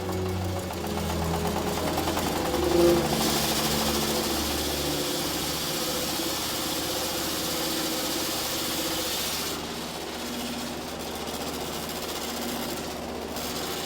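An old, worn motor-driven mill grinds maize into flour in Zimbabwe or Zambia, giving a steady, loud mechanical drone with rattling vibration that runs throughout, with no voices.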